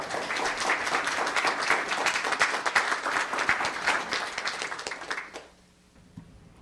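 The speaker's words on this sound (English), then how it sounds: "let's have a round of applause for Laura Herron." Applause fills a town council meeting room, dense and sustained clapping from a crowd for about five seconds before it fades quickly into near silence.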